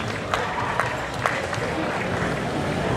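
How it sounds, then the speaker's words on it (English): An audience claps at a powerlifting contest for the first squat group of a session, a continuous spread of applause with a few sharper individual claps standing out and some talk beneath. "Give a round of applause the first squad of this session."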